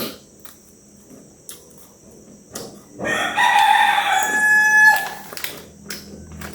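A rooster crows loudly in the middle of the stretch, surrounded by scattered clucks and knocks, with a thin insect-like whine in the background.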